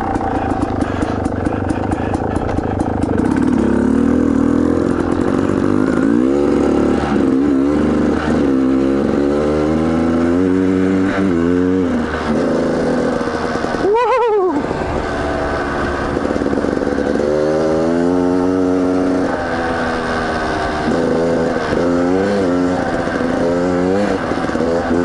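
A Beta Xtrainer dirt bike rides off-road on a trail at Hackett Gulch, its engine droning loud and near with constantly rising and falling revs and a brief dip partway through.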